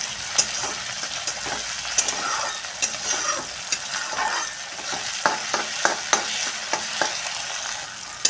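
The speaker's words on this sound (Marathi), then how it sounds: "टोमॅटो चांगला आपण परतून घेऊया. टोमॅटो चांगला मऊ पडेपर्यंत" Tomatoes frying in a pan while being stirred for a sorghum-flour upma, with a steady loud sizzle and regular scraping strokes of the spoon close by.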